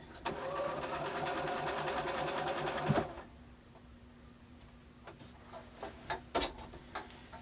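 A sewing machine runs steadily for a few seconds while stitching a muumuu dress, then stops, leaving a faint hum and a few light clicks and handling taps.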